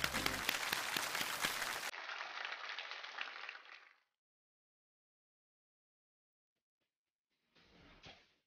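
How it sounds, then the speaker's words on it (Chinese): Studio audience applauding on a stage talk show as a hula hoop and contortion acrobat is welcomed; the clapping is loud, then tapers off and stops, leaving silence before a brief faint sound near the end. "掌声有请"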